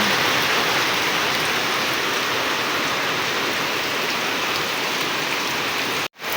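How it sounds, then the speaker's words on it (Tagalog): Heavy rain pours in a dense, steady roar throughout, then cuts off abruptly near the end. "Lakas ng ulan."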